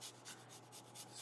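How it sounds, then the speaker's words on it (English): Fresh garlic cloves grated on a microplane, heard as a quick series of soft, close, rhythmic rasping strokes, about five or six in a row, with no talking. "I'm gonna just use my microplane and grate it directly in there so that it's really fine"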